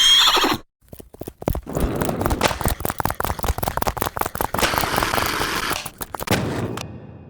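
Rapid clip-clop hooves and loud, harsh horse sounds rush past, intense and close, with a brief silence near the start.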